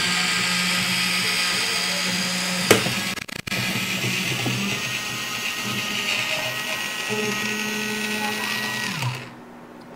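A hands-free electric can opener cutting around a can lid, a steady close whirring motor drone with a brief clunk partway through, running until it stops on its own at the end.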